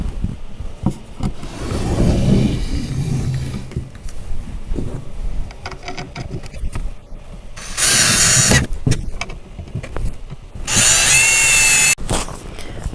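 A power drill drives screws into the rails of a Badger Basket White Rose doll bunk bed, two loud close bursts of whining motor separated by quieter handling and clattering of wooden parts.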